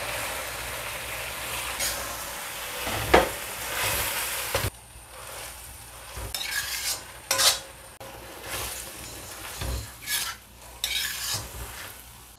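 Onion, garlic and leek leaves stir-fry in a pan with a continuous sizzle, punctuated by sharp scraping and clanking strokes of a utensil against the metal.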